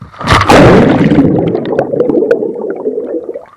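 Someone leaps into water outdoors with a loud, close splash and burst of churning water, followed by several seconds of bubbling, sloshing turbulence as the water settles.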